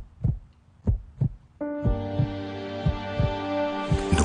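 A heartbeat sound effect in a Spanish-language radio advertisement: three or four low, thumping beats in a steady rhythm, then a swelling music bed that enters and carries the pulse on underneath.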